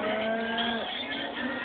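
Cattle lowing steadily, a sustained harmonic moo or overlapping moos close by and fairly loud, with no talk.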